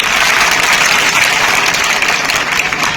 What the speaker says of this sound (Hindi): तो सारे बच्चों रंगोली बनाने वालों के लिए ताली बजाइए।